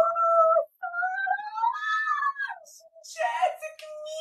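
A cat meows several times in drawn-out, rising and falling cries, close and fairly loud, with a brief gap and some rustling near the end.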